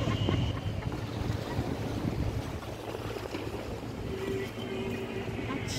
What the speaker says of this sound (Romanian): Copilașii, mergem cu barca.